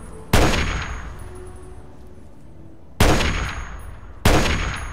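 Three loud gunshots in the Fallout 3 video game, each a sharp crack with a decaying ring, the first early and the other two close together near the end, with quiet between them.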